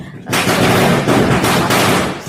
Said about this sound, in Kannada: ಹೊರಗಡೆ ಪಟಾಕಿ ಹೊಡಿತಾ ಇದ್ದಾರೆ ಸೊ ಶಬ್ದಗಳು ಕೂಡ ಜಾಸ್ತಿ ಇದೆ